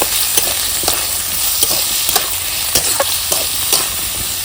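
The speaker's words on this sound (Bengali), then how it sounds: "এগুলো একটু ভেজে নেব ভালোভাবে" Vegetables such as capsicum and beans frying in a pan with a loud, dense, continuous sizzle, punctuated by light periodic taps and scrapes of stirring, close up with no talking.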